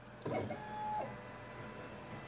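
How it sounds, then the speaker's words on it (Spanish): An Aufero Laser 2 laser engraver starts up with a short mechanical whir, then a brief steady motor tone that fades into a quiet hum, with nobody speaking. "le damos al botoncito del play y la impresora empieza a trabajar"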